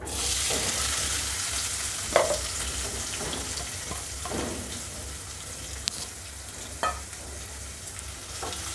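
Onions fry in oil in a pan while cooking a Maharashtrian non-veg thali, with a continuous crackling sizzle and occasional spoon scrapes and light clinks cutting through, no voices over it.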